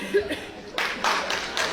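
A comedy show audience breaks into brief applause. A quiet chuckle comes first, then a burst of clapping that swells for about a second.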